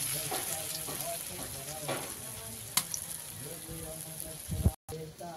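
Green leaf fritters (bora) made from gandhabhaduli leaves fry in oil with a continuous close sizzle and bubbling, a few utensil clinks and a voice speaking faintly underneath.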